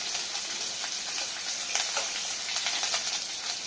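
Chopped coriander and green chilli sizzle and sauté in a hot pan for an upma, a steady dense frying hiss with faint scraping stirs, close and even throughout with no voices.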